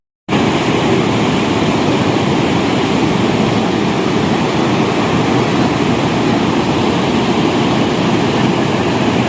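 Loud, steady roar of rain-swollen streams overflowing as rushing floodwater, continuous and broadband with no pauses, close to the listener.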